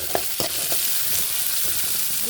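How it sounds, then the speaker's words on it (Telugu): Onions and green peas sizzle softly in a pan as a spoon stirs them, a few quick scraping strokes over a steady hiss, brief and close. "కొంచెము ఫ్రై అయింది కదా ఆనియన్స్"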